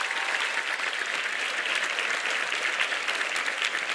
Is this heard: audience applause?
yes